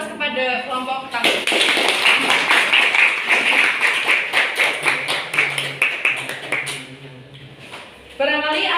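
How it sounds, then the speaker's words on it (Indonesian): A small group claps for the first presenting group, a steady patter of hand claps lasting several seconds, close and fairly loud, with a voice speaking just before it begins. "Berikan aplaus kepada kelompok pertama"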